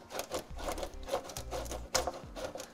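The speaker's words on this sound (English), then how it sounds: "Go ahead and remove the big Phillips screws next." A power driver backs out large Phillips screws on a 2015 Toyota Sienna, giving a few short whirring bursts with rattling and scraping between them, close by.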